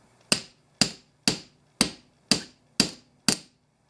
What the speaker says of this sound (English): I'm going to take the tack hammer and a metal block. I'm going to hit that.